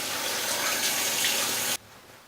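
Tap water runs steadily into a sink during face washing, a loud close hiss that cuts off abruptly near the end, leaving quiet.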